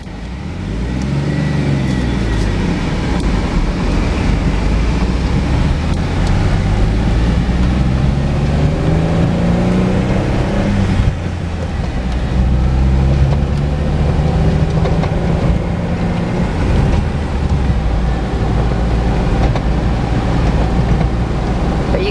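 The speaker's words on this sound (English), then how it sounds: "As you can see, the Jeep runs, drives, and shifts." A 2008 Jeep with about 12,600 miles idles and drives, its engine giving a steady, loud continuous rumble close by with rising and falling pitch as it shifts, and no talking over it.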